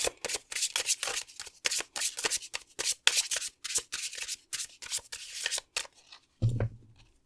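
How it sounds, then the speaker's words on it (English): Tarot cards shuffled by hand in quick, crisp riffling bursts separated by short pauses, close and clear, ending with a soft thump as the deck settles; no talking. "would you give me around 5 cards explaining more about the adventure they're being invited to embark on?"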